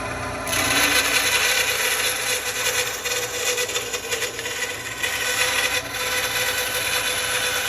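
A bandsaw cuts steadily through a workpiece, giving a loud, continuous close-up rasping whir that starts abruptly and holds evenly for several seconds, with no talking over it.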